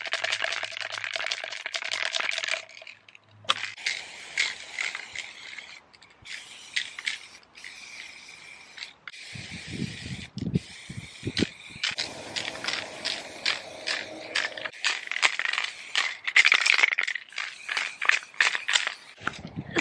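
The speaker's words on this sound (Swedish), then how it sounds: "Så jag ska ta och spraypainta det här bruna lite grann nu tänkte jag." A spray paint can hisses in bursts as brown wood is sprayed over, several long spurts separated by short pauses, with rattling and handling noises in between.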